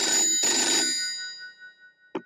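Telephone ringing indoors: two loud, bright bursts of electronic bell ringing that fade into silence, then a short final chirp near the end, with no voices.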